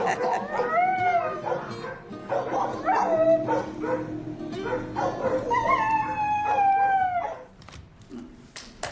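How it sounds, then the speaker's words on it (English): Dogs at an animal shelter howl and whimper together in long rising and falling wails, close and loud, with yips and barks mixed in and a brief lull near the end. "heard those dogs howling?"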